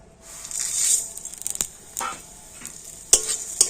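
Medium-thick vermicelli fries in ghee in a kadai over low heat, with a soft steady sizzle broken by scraping stirs and a few sharp clinks of a utensil against the pan.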